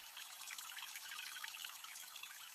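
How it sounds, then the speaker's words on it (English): Tap water runs steadily as blanched meat and bones are rinsed, a faint, even splashing stream with no voices. "I rinse everything well."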